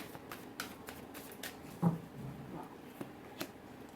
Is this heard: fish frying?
no